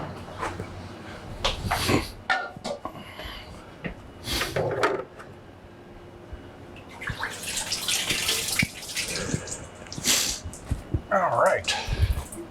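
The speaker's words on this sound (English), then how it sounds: "we're going to rinse the inside of this image" Running water rinses a coated screen-printing screen during washout, gushing and splashing in uneven spurts close by, with people talking at times over the flow.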